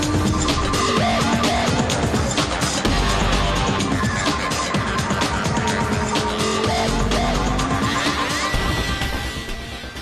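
A Wiesmann Roadster sports car on extra-wide tires drives fast around a race circuit, its engine note loud and close as it climbs and shifts through gears, with faint tire noise underneath.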